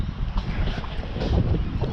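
Blustery wind by the Torrens River buffeting the microphone, a low rumbling roar that rises and falls continuously, with no voices.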